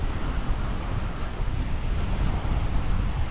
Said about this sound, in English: It's very breezy here.